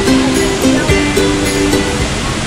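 Gareg Waterfall pours in a steady, loud, broadband rush heard close up in the rain, with a faint tonal hum running underneath.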